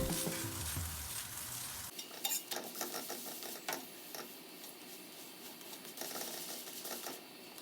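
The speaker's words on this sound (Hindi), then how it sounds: "मैं पराठे थोड़े ऑलिव ऑयल और थोड़ा बटर में बना रही हूँ" Parathas frying in a pan of olive oil with a little butter, a steady soft sizzle with faint scraping and clinks, quieter after the first two seconds.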